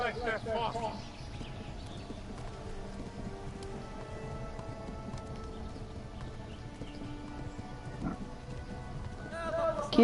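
Horse hooves gallop in a steady clip-clop rhythm in the medieval video game Kingdom Come, a moderate, even beat running under a player talking throughout.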